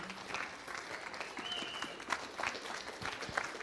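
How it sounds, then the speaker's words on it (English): An audience at a prosperity summit in Saskatoon applauds the speakers, a steady wash of many clapping hands heard from a moderate distance, fairly soft and even throughout. "Let's give our speakers a big round of applause"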